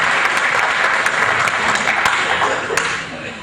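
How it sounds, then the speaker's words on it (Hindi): Audience applause welcoming a speaker at a Human Rights Day gathering, dense continuous clapping from a large crowd, loud and sustained before tapering off slightly at the end. "तालियों से इस्तकबाल करें स्वामी अग्निवेश साहब"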